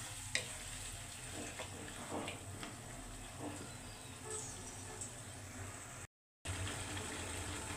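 Meat browning with roast spice mix in a pan, with ground nut paste and sour yogurt being added, gives a steady low sizzle and frying crackle with occasional stirring scrapes, continuous at moderate volume.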